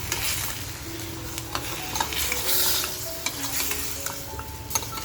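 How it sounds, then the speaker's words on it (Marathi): Chicken fries in a pan with black pepper, a steady sizzle broken by scraping stirs and occasional utensil clinks close by, with no talking. "इतकं छान असं चिकन फ्राय झालंय आपलं."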